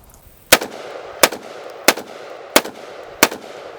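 Five loud, sharp Kalashnikov KS-12T 12 gauge shotgun blasts firing buckshot at a range, evenly spaced about two-thirds of a second apart, each with a short ringing decay.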